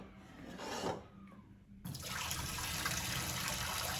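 Pasta water pouring from a pot through the large-hole side of a strainer lid into a sink for spinach Alfredo, a steady close rushing splash after a brief quieter start.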